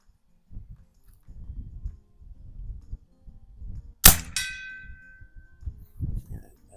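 A single sharp shot from a Pinty tactical gun at an outdoor shooting range, a loud metallic crack with a brief ringing ping, set among low wind rumble and quiet handling noise.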